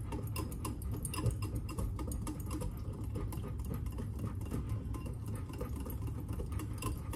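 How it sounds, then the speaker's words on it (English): A honey, salt and pepper dressing is whisked steadily in a bowl, producing a continuous fast ticking and clattering of the whisk against the sides, close and moderately loud with no voices. "Okay, you're just gonna whisk that all together."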